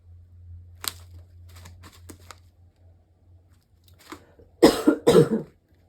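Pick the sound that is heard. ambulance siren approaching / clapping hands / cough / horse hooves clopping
cough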